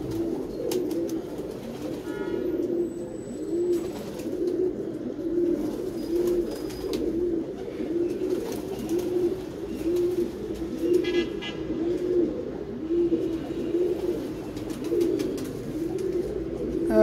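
Pigeons cooing steadily in a repeating low rhythm close by, a loft-like setting with faint traffic and an occasional horn in the background.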